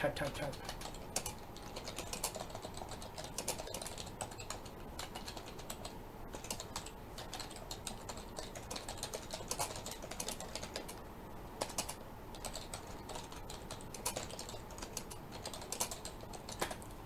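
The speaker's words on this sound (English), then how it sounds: "So, listen to me while I type. Type." Keys clatter steadily on a computer keyboard in a rapid, irregular stream of close clicks, with a voice speaking intermittently over the typing.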